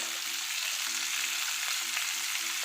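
Fish fries in oil in a large pan, giving a loud, steady, dense sizzle that runs unbroken and close up, with no one talking.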